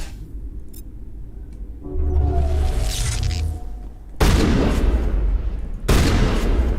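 Shotgun blasts in the video game Mass Effect, two loud booming shots that cut in abruptly over rumbling game combat noise, with no talking.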